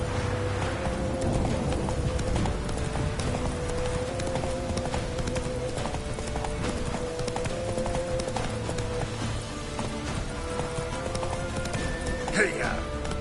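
A horse gallops in The Witcher 3: Wild Hunt, steady close clip-clop of hooves running throughout, with a voice speaking over it.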